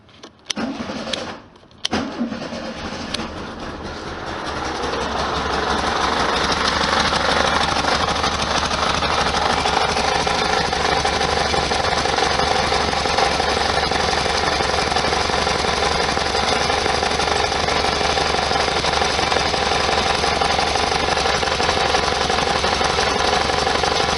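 A 1973 VW Super Beetle engine, fuel injected, cranks briefly with a stumble, then catches and settles into a loud, steady idle that runs on without a break.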